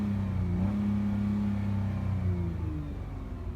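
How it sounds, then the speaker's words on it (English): Engine of a 2016 Chrysler Town and Country minivan revving, a low steady drone that rises in pitch and eases back, heard fairly close with no talking. "Open the windows and rev it a little for you guys."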